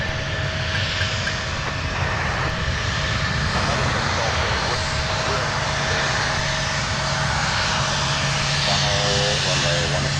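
A fixed-wing airliner's engines roar steadily at Minneapolis–Saint Paul airport, a loud continuous drone with a rising whine near the end, as radio chatter runs underneath.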